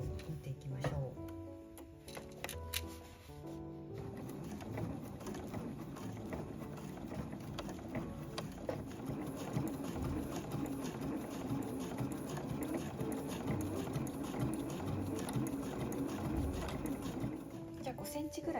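A home sewing machine stitches about 1.5 mm from the edge of a canvas zippered tote bag, a continuous rapid mechanical whirring and needle chatter running throughout while a person talks over it.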